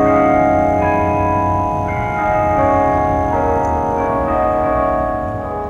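Bells at Ayres Hall chime a song as a slow, sustained melody of ringing tones that overlap and blend, played steadily with no speech over them.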